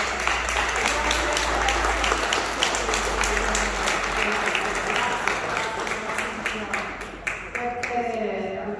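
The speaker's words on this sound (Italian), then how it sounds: "io veramente vorrei fare un grandissimo applauso per te" Sustained applause from an audience at a twentieth-anniversary gathering, steady dense clapping with some voices mixed in, tapering slightly toward the end as talk resumes.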